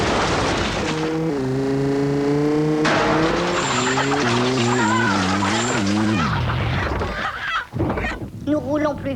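Speeding vehicles race in a car chase from the film Terminus, with loud engine whine rising and falling in pitch over a constant roar, then a burst of tire screeching near the end.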